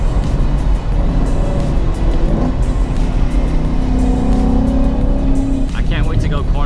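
A boosted Ford Mustang Cobra runs loud and steady with a deep engine rumble throughout, revving slightly at times, while a person talks over it.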